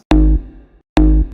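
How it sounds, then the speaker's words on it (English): A single bass shot sample from a pop/dance sample pack, heard twice: a sharp, punchy attack with a deep low body that decays within about a quarter second, loud and isolated. "I took a little bass shot from the pack that sounds like this"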